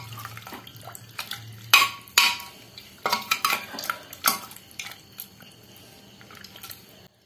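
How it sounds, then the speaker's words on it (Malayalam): A spoon clatters and scrapes against a cooking pot while beef curry is stirred, with several sharp metallic knocks in uneven bursts over a quiet background. "നല്ല ഇങ്ങോട്ട് പാകത്തിന് വെന്തിക്കണത് കൊണ്ടൊന്ന് ഇളക്കി വെക്കട്ടെ."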